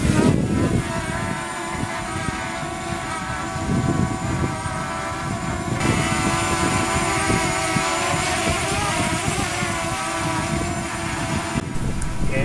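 A DJI Mavic Mini drone lifts off and hovers about a meter above the ground, its propellers giving a steady, close, high buzzing whine that shifts in pitch partway through and holds loud and constant throughout.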